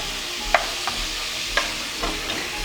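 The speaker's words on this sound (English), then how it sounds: "I'm going to fry the tomatoes" Tomatoes frying in a pan hiss with a steady sizzle, broken by a few light clicks and scrapes of stirring.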